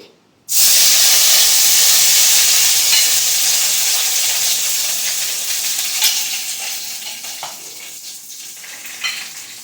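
Curry leaves hit hot oil in a pan and burst into a loud, close sizzle that starts abruptly, then hisses and crackles steadily before slowly easing, with a few sharper pops along the way.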